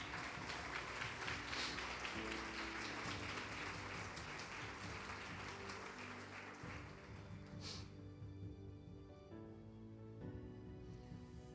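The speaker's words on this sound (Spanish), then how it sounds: "Aplauda fuerte." Church congregation applauding loudly during a sermon, a dense, sustained wash of clapping over steady music that carries through the whole stretch and eases slightly toward the end.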